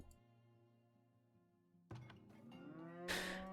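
Cattle lowing in a farming video game: a long drawn-out moo with a steady harmonic tone, then a second, rising moo and a brighter, louder call at the end, heard alone and close.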